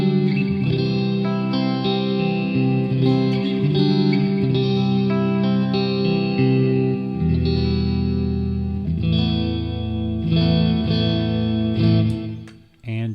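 Peavey Raptor electric guitar on middle and neck pickups together playing chords and melodic phrases with a clean, slightly effected tone, sustained and ringing, alone without voices.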